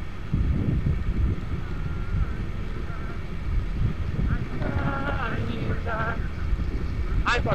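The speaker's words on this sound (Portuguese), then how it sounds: "Tá ventando, viu, família?" Wind buffets the microphone during a ride on a 50cc Shineray motorcycle, a continuous heavy low roar with rushing noise throughout, while a voice briefly cuts in over it near the end.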